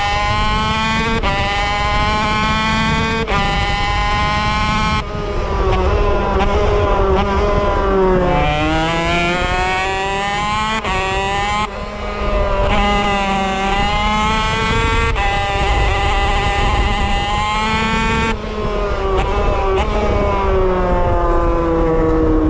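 A high-revving 250cc two-stroke GP racing motorcycle screams loudly on a race track, pitch rising and falling through repeated gear shifts, close and continuous.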